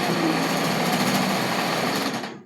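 Close and loud, a sewing machine stitches two pieces of fabric together with a continuous high motor whir and rapid needle chatter, running steadily before winding down to silence.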